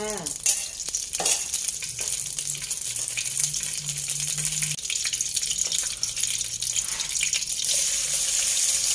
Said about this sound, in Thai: จะผัดด้วยน้ำมันหมูนะคะใส่น้ำมันหมูลงไปค่ะ